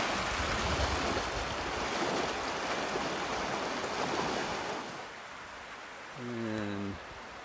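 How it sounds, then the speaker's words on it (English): High water rushes through flooded Oak Creek, a broad, steady roar of flowing water near an overhanging tree. It eases slightly toward the end, where a short tonal hum briefly appears. "Water hitting the bottom of that overhanging tree."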